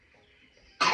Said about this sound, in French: Désolée, elle a toussé.